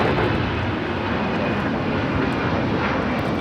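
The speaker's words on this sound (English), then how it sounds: "This Delta 757-200 taking off to Boston, flight 2130" A Delta Boeing 757-200 jet roars loudly and steadily as it takes off at Los Angeles LAX airport, a broad, continuous engine rumble with no pauses and no voices.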